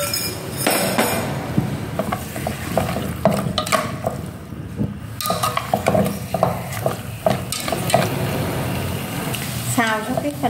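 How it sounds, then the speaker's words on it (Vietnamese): Pork stir-frying in a pan with aromatics such as star anise, a steady loud sizzle broken by clinks and scrapes of a utensil stirring the meat, continuing for several seconds. "Khi phần hành thơm rồi các bạn sẽ cho thịt vào để mình xào qua lên."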